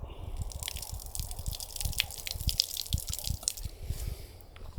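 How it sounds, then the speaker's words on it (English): Water from an outdoor tap in a park patters and splashes onto the ground below, a steady close stream with dense dripping bursts and no voices. "we have a water tap."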